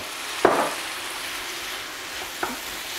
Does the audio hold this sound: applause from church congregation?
no